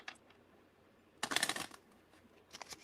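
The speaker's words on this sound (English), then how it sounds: "you're a good shuffler" A deck of playing cards is riffled and shuffled close by, one dense crisp ripple lasting about half a second, then quieter light flutters toward the end.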